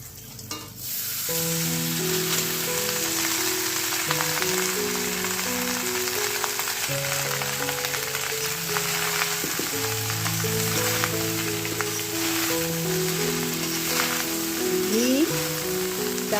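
Cashew nuts fry and get stirred in a pan with whole cinnamon, a steady close sizzle with scraping stirs running the whole time beneath soft background music.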